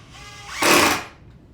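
A cordless drill driver whirs in one short, loud burst while building a rustic wooden Christmas tree shelf, preceded by a faint tool hum.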